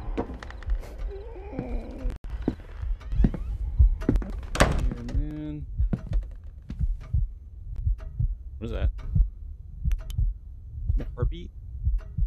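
Slow, steady heartbeat thumps from the Paranormal Activity video game pulse through the scene, mixed with other muted game sounds and a voice.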